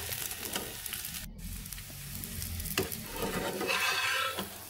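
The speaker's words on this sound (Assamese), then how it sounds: "মই এখন এখনকৈ আলু পৰঠা এনেকৈ অকণমান তেল দি গৰম কৰি লৈছোঁ।" Aloo paratha fries in a little oil in a kadai, giving a soft, quiet sizzle with faint scraping as it cooks, no talk heard.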